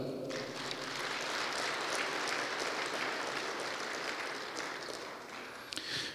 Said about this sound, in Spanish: un cariñoso voto de aplausos